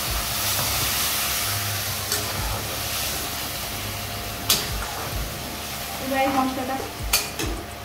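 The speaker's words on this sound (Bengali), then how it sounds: "এবারই মশলাটা কষিয়ে নেবে, তাই তো?" Spices sizzling and being stirred in a frying pan for Bengali dhoka dalna, cooked without tomato; a steady close fry hiss with occasional scraping stirs and clinks toward the end, no talking.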